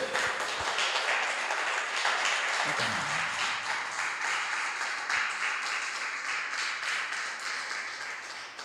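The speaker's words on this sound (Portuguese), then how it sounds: "Você pode dar uma salva de palmas ao nosso Deus?" A church congregation applauding at the close of a worship service, a broad, sustained round of clapping that gradually fades, with a brief murmur of voices partway through.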